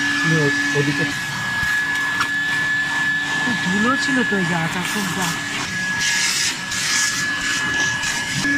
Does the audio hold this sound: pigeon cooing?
no